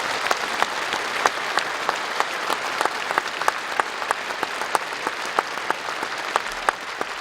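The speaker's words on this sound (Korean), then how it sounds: "우리 노태진 목사님 크게 박수해 주셔야죠." A church congregation at an installation thanksgiving service applauds a long-serving pastor, steady, close applause from a crowd with individual claps standing out in a brisk, continuous stream.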